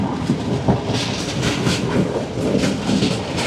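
A train running along the Sri Lankan coast on the Colombo to Galle line rumbles loudly and continuously, with rhythmic clatter from the wheels and carriages close by.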